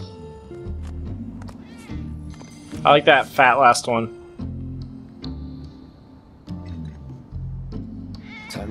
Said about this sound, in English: It's my army of cats!